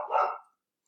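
A single dog bark, close and clear, fading quickly into silence.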